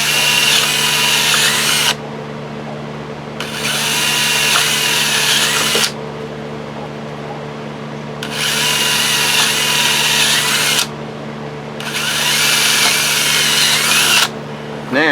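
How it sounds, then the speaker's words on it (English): Power drill run through a hole in a hydroponic rail to clean it up, several loud whirring bursts of a few seconds each separated by short pauses, with a steady hum underneath. "So I just take my drill and run it through."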